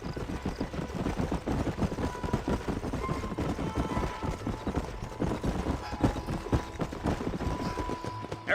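Horses galloping in Red Dead Redemption, a dense, continuous drumming of hooves at close range with a faint engine-like drone underneath.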